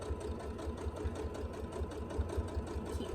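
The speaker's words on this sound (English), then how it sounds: "keep sewing." A sewing machine stitches a tool wrap, giving a quiet, close, rapid and even mechanical chatter that runs steadily throughout.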